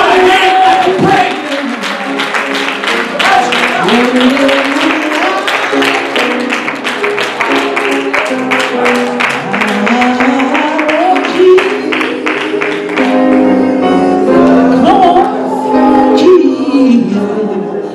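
A church congregation clapping hands during a sermon, rhythmic claps layered with loud singing or shouting voices and crowd noise throughout.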